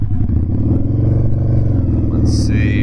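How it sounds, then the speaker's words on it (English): A 2006 Harley-Davidson V-Rod engine drones loudly and evenly at close range, its pitch holding fairly steady rather than climbing sharply, with a couple of brief high electronic chirps near the end. "you can kind of rev it up a little bit higher and see how it does there"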